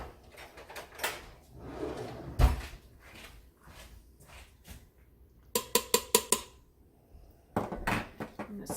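A kitchen drawer is pulled open while canning cherries, with clattering utensils inside, then a run of sharp rattling clicks and knocks near the close, with no talk.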